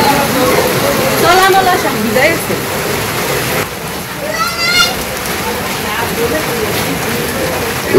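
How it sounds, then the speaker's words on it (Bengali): Steady rain falls in a rural Bangladeshi village during the rainy season, a constant wash of patter on surfaces with voices talking over it throughout. "একটু বৃষ্টি হারার নাই, ভিজা শুরু করে দিছে।"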